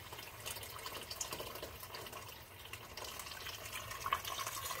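Hot water pours into a soup pot for Jamaican chicken soup, a faint, steady running splash of liquid heard alone.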